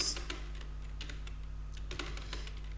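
Typing on a computer keyboard while entering a prompt into an AI tool for building trading scripts, a run of fairly quick, light key clicks at an uneven rhythm, close and soft over a steady low electrical hum.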